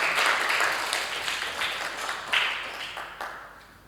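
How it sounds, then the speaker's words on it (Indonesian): Classroom audience applauding together, a dense steady wash of many hands clapping that fades gradually over several seconds, with a few sharper individual claps near the end. "Kita berikan aplaus dulu."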